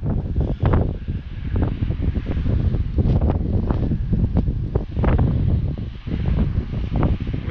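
Strong storm wind roars outdoors on a street, buffeting the microphone in constant loud gusts with rustling surges and no talking.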